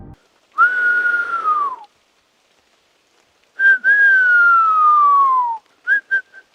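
A person whistles into the dark Appalachian woods at night: two long, clear, gently falling whistles separated by a pause, then a few short, sharp whistle blips, loud and close with no talking.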